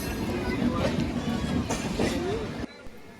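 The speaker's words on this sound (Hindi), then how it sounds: "नई दिल्ली से निकलने के बाद अब हमारी ट्रेन पहुंचती है हज़रत निजामुद्दीन रेलवे स्टेशन" The Himsagar Express passenger train rolls along the rails with a loud, steady rumble and rhythmic wheel clatter. A voice talks over the running noise, and the rumble drops away sharply near the end.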